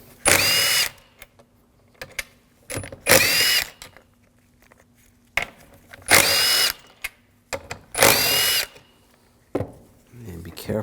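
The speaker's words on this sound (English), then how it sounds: "Remove the throttle body, use a 10mm socket." A power socket tool works on the throttle body bolts of a 2007-2013 BMW 328i 3.0L inline-six, firing in four loud, close, whirring bursts separated by quieter pauses with small handling noises.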